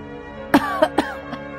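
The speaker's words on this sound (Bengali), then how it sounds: "তখনও দাওয়ায় বসে কাশছিল" Someone coughs several times in quick, harsh bursts, close by, followed by a softer final cough.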